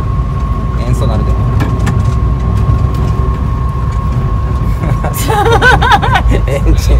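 Volkswagen Type 2 bus engine droning steadily and loud at low pitch while driving, with a constant whine over the rumble; a voice talks near the end.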